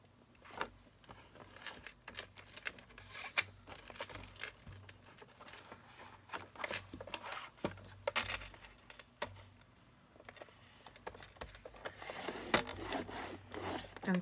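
A scoring tool is drawn along cardstock while a double gatefold card is made, giving close, dry scraping and rubbing strokes in short irregular bursts with soft taps between them.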